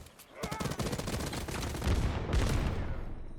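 Sustained gunfire in the video game Hawked, dense bursts of automatic shots starting after a brief pause and rattling on close and loud, with heavier thumps mixed into the continuous volley.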